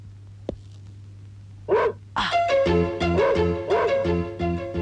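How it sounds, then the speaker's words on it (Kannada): A dog in a Kannada village drama gives a few sharp barks that build into steady, loud barking over a musical film score, heard up close. "ಬಹಳ ದಿನ ಆಯ್ತಲ್ಲ, ಅದಕ್ಕೆ ಬೊಗಳ್ತಾ ಇದೆ."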